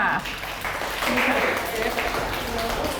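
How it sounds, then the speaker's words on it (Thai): Classroom applause for a student during a teaching practice session, a dense continuous patter of many hands clapping for about three seconds at moderate level with no clear gaps. "ขอเสียงปรบมือให้ อินทัศค่ะ"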